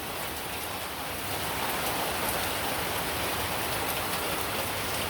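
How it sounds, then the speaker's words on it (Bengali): Rain falls in a continuous, even wash of hiss that grows slightly louder partway through, with no voices present. "রোদ উঠছিল ভালোই কিন্তু তারপর আবার এই যে বৃষ্টি নেমে গেলো"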